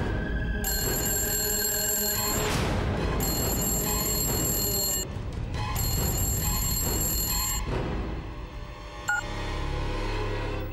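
A telephone bell rings loud and close in a Telugu TV serial scene, three long bursts of bright rhythmic ringing separated by short pauses, a brief cut-off tone near the end.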